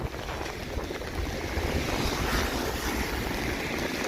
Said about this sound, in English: The wind and the rain,